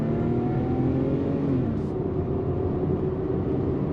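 A 1996–2001 third-generation Lexus ES300 accelerates steadily onto a highway, heard from inside as a smooth, constant engine whir with rising tones over road rumble.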